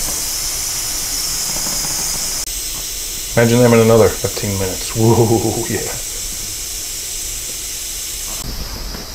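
A pressure oven cooking rotisserie wings lets off steam pressure in a steady, loud hiss that runs through the whole stretch. Brief conversation sits on top of the hiss partway through.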